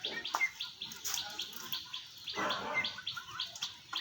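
Chirping calls from a hunting bird and its chick, kept as birds for sale, come in short bright bursts spread across a few seconds, fairly close, with faint background noise and no talk.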